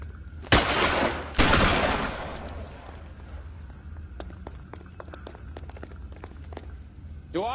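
Gunfire in the crime game L.A. Noire opens with two loud, sharp bursts, then a scatter of quieter, rapid cracks and clicks, with background game sounds between them.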